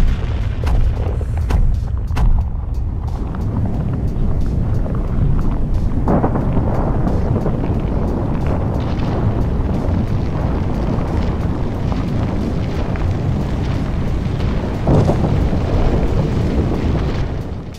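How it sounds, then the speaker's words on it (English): A massive demolition explosion brings down a tower building, producing a long, loud, continuous roar and deep rumble with crackling debris that persists without letup for many seconds. "with the massive explosion taking place on February the 2nd"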